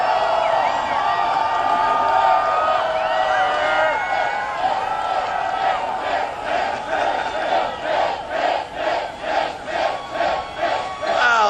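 A huge crowd of supporters roars and yells in welcome at a Mitt Romney rally in Sarasota, Florida, the din breaking into rhythmic chanting pulses in the second half.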